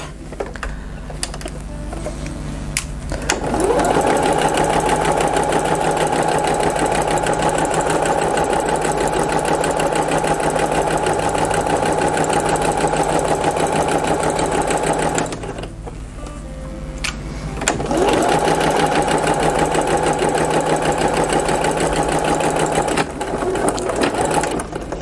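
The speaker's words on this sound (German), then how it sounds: "Also ich nähe erstmal dieses hier an." Sewing machine stitching batik quilt fabric, running in long steady bursts with a fast, even whirring rhythm, close and loud. It stops briefly twice in between.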